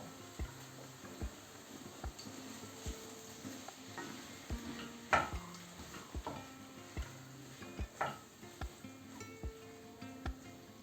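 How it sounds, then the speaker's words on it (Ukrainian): Macaroni with sausages is stirred in a pan, with regular spoon knocks and scrapes against the metal over a low, faint sizzle, repeating steadily with no one speaking. "та перемішуємо"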